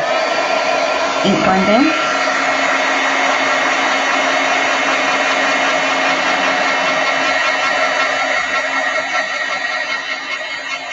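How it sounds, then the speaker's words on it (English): A heat tool blows steadily to set freshly stamped ink on a card, a loud continuous whooshing hum that runs unbroken the whole time, with a few words spoken briefly over it near the start. "I'm just going to heat set those a little second"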